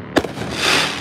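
A single sharp firework blast at a Fourth of July celebration is followed by a long crackling hiss of bursting sparks nearby.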